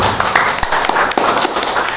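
A church congregation claps their hands during a Sunday service, a short burst of scattered, uneven claps that is fairly loud and close.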